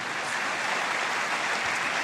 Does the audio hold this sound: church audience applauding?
yes